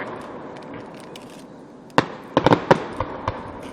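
Outdoor fireworks at a public display in Hancock go off in a quick burst of sharp, loud cracks and bangs, one big report followed by a cluster of several more and a few fainter pops, over a steady crowd murmur.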